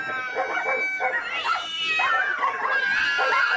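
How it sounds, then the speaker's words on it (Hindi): Loud, harsh yowling and snarling of cats and dogs fighting, continuous and close, with a tinny quality, playing as a phone ringtone from a pocket. "बाबूजी, ये कुत्ते बिल्ली आपकी जेब में लड़ रहे हैं"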